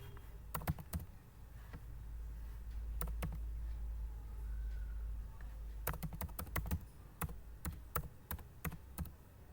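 Keys clatter on a computer keyboard as an email address and password are entered, with quick clustered bursts of taps, a pause, then a faster run of clicks at close range over a steady low room hum.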